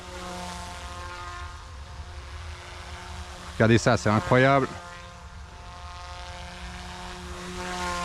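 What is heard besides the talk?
Goosky S1 RC helicopter flying with brushless motor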